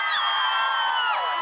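A crowd of over 500 high school students cheers and whoops at a live evening event, a loud, steady wall of voices with high shouts sustained throughout.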